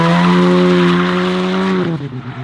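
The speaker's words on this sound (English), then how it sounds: "let's get drifting." A JDM drift car holds a loud, steady engine roar with squealing tires through a long slide, then the sound drops and breaks up near the end.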